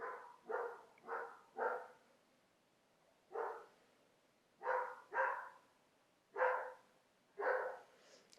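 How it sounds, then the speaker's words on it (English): A dog barks repeatedly from a short distance, single and double barks in irregular bursts with quiet gaps between them. "I don't know if you hear that barking, but Max is home."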